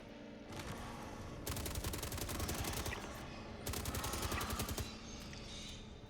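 Two long bursts of automatic gunfire at worms in Star Citizen, steady rattling fire separated by a short gap, moderately close, over a low background hum.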